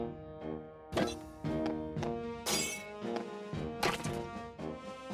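Big rocks being smashed in the farming game Harvest Moon: Animal Parade, a series of sharp cracking thwacks and shattering crunches, several hits spaced irregularly over a few seconds, fairly loud with game music underneath.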